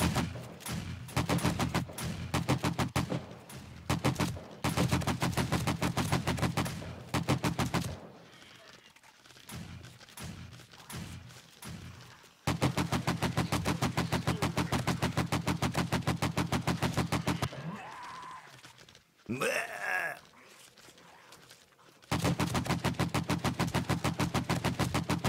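AK rifle fire in the video game 7 Days to Die, coming in rapid bursts and long sustained strings of shots, loud and close, with brief quiet gaps and a few scattered thuds between volleys.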